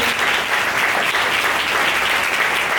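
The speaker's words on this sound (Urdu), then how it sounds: "آئے ہم سب ماؤں کے لیے زوردار تالیاں بجائیں" Loud, sustained applause fills a Mother's Day church gathering, many hands clapping together in a dense, even roar from start to finish.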